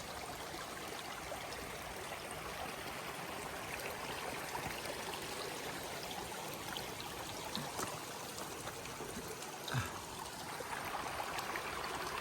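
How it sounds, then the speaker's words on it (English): A seasonal mountain stream trickles and burbles steadily over rocks along a hiking trail, a continuous soft wash of water with no voices. "a seasonal stream"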